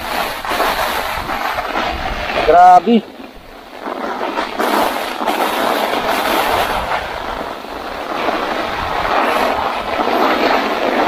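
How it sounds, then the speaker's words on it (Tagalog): Heavy storm rain and wind roar steadily and loudly, with a brief shouted voice breaking through near the start. "Lakas guys ang hangin."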